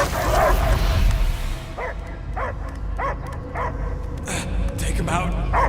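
A dog in the Guardians of the Galaxy video game barks and yelps in a run of short, evenly spaced bursts, heard over a steady game soundscape with voices speaking.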